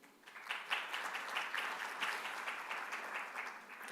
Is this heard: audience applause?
yes